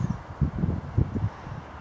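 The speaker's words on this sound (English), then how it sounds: "It's a cold or cool northwesterly wind coming across the top of that bank" Cold northwesterly wind gusting across the top of a riverbank on the River Swale, heard as low buffeting rumbles against the microphone in uneven bursts, with no talking.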